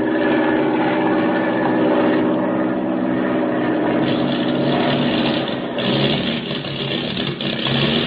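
Airplane engine with motor trouble, a radio drama sound effect: a loud, steady propeller drone that roughens and wavers toward the end, heard alone without voices.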